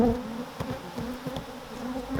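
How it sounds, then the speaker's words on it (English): A swarm of agitated honeybees pours out of an opened hive into the air, a dense, steady buzzing hum close to the listener, with individual bees flicking past in louder swells. "there's a lot of bees up in the air already"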